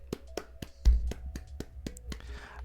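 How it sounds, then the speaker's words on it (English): A small group claps in a round of applause, sharp irregular hand claps spread across nearly three seconds, moderately close and fairly quiet, with no voices. "so we're going to give ourselves a round of applause."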